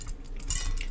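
Light tapping on a metal whisk used for soap making, a few soft metallic clinks and taps, close and quiet, with no talking.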